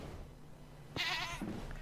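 A goat in the FTB Minecraft modpack game gives one short, nasal bleat against a quiet background, with no talking.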